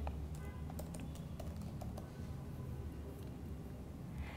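Keys on a computer keyboard clack in a quick, uneven burst of typing as a search is entered, close and fairly quiet, then the tapping stops and a low room hum remains.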